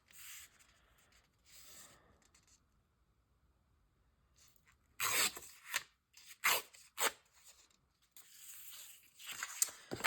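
Scissors trimming a paper craft shape, a few soft snips and rasping cuts close by, quiet at first and then a busier run of crisp paper cutting and rustling, with no voices.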